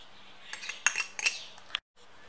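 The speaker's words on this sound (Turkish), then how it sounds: "Ondan sonra arkadaşlar böyle karıştırıyorum. Çatalda." A fork stirs tahini, lemon juice, crushed garlic and salt for a white-bean dish, giving several quick metallic clinks and scrapes against a bowl over about a second and a half, close and fairly faint.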